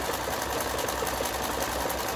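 A Lion JF1014N household sewing machine, recently fitted with a new motor, runs an overlock stitch at speed, a close, steady, rapid mechanical whir and needle chatter with no break.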